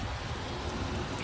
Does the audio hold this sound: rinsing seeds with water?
no